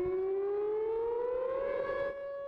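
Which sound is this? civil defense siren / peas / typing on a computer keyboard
civil defense siren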